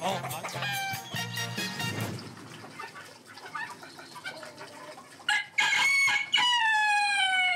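Roosters crow loudly and repeatedly, with hens clucking in between and voices speaking faintly underneath.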